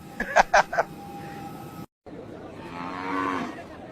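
A cow moos in a long, drawn-out low call, preceded by a few short bursts of other sound and a brief gap of silence.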